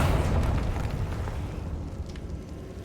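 The Confringo blasting spell in Hogwarts Legacy detonates as a close, heavy explosive boom that rumbles and slowly fades over a few seconds, with no talking over it.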